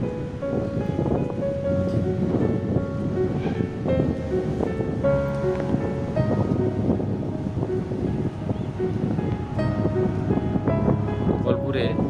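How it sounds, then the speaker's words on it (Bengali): Rough sea surf breaking on the beach at Gopalpur, a constant wash of waves with wind noise, heard under someone talking throughout. "তবে সমুদ্রের ঢেউ খুবই রুক্ষ, একটু সাবধানতা প্রত্যেকেরই নেওয়া দরকার।"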